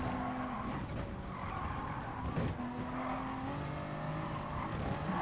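Race car tyres squeal and skid as grip is lost exiting the last corner of a chicane in GT Sport, with steady engine drone underneath the sustained screech.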